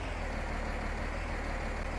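A tractor engine in Farming Simulator 19 drones steadily at low pitch, a continuous even rumble that carries no talk.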